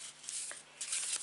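A tarot card deck is shuffled close by in soft, papery riffling bursts, one brief run followed by a longer flurry, with no talking.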